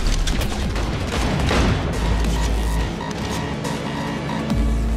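Gunfire during a car chase in Cyberpunk 2077, a dense continuous barrage of shots over a loud engine and road roar, close and busy with crashes mixed in.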